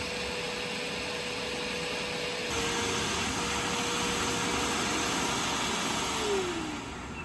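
A wet/dry vacuum steadily whines and roars as it sucks debris out of a clogged air-conditioner drain line, with a shift in pitch partway through and a falling tone near the end.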